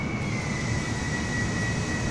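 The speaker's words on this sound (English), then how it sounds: "That's a helicopter. That's what that is." A helicopter in a flight simulator game produces a steady, even engine drone with a thin sustained whine on top, continuous and moderately loud with no talking.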